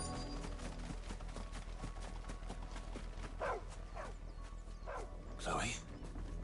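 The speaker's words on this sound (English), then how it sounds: "No, that's not Chloe, it's a dog." A dog barks and yips a few times in Final Fantasy XVI near a windmill, the short calls rising over a steady game background with voices.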